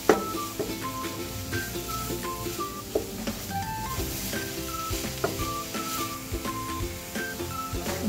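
Food frying in a covered pan gives a steady sizzle with occasional clinks and light knocks, moderately close and continuous, with no one talking.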